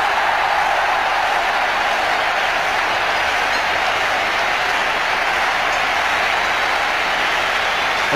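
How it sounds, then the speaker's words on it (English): Packed stadium crowd at a 1996 World Cup cricket semi-final between India and Sri Lanka roaring and applauding a boundary four by Tendulkar, a dense, continuous wall of cheering with no breaks. "Listen to the crowd."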